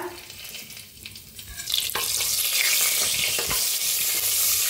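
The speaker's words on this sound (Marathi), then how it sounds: "आता तेल चांगलं गरम झालेलं आहे, त्याच्यात टाकायचं अर्धा चमचा जिरं, थोडंसं हिंग," Cumin, asafoetida and bay leaf hit hot oil, setting off a bright, loud sizzle that swells after a quieter start and holds steady, with a few stirring clicks and no talk.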